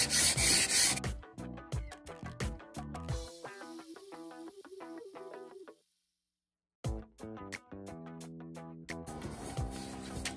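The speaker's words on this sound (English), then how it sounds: "we're just gonna start sanding this down real quick." A block of wood is sanded by hand with sander pads, making close, rhythmic rasping strokes in a steady back-and-forth pattern, with a brief quiet pause midway before the scrubbing resumes.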